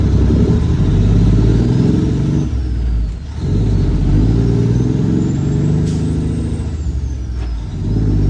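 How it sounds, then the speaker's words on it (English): A passing Audi car rolls by on a road beside an idling truck, a steady loud engine rumble swelling and fading as it goes past, with no talk. "Wait for the Audi to go by."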